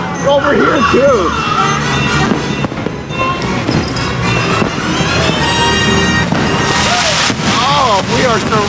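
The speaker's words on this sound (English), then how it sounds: "Oh, we are surrounded by fireworks." Loud, continuous New Year's Eve fireworks crackling and booming from several directions at Disney's Magic Kingdom, with people talking and exclaiming throughout.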